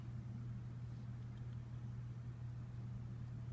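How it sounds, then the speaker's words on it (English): A 1974 Toastmaster McGraw Edison Model 5373 20-inch box fan with a three-wing metal blade runs slowly on low, its motor holding a steady low hum and whine with constant broadband airflow noise throughout. "low runs really slow, and when it does, the motor whines pretty loudly"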